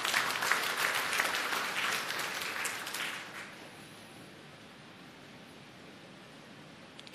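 Church congregation applauding during a sermon in Surabaya, a dense patter of clapping for about three seconds that quickly thins and fades into quiet room tone.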